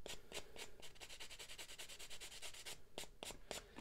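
Close, faint rhythmic rubbing strokes as a 3D-printed Mandalorian helmet rangefinder is sanded by hand, a regular back-and-forth rasp that pauses briefly before a few final strokes.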